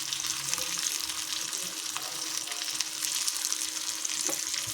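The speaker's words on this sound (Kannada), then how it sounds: "ಲೋ ಫ್ಲೇಮಲ್ಲಿ ಈಗ ಬೇಯ್ತಾ ಇದೆ ನಮ್ಮ ಮೀನು" Bangude (mackerel) coated in rava fries on a tawa over a low flame, giving a close, even, continuous sizzle with no talking.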